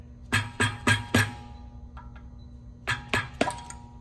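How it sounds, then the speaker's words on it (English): Sharp rubber mallet taps knocking a valve plate loose from a compressor head on an LH2 series pump, a quick run of four strikes, a pause with two faint ticks, then three more strikes, close and distinct with no talk. "Using the rubber mallet and a flat blade screwdriver, gently tap to remove the valve plate from the compressor head."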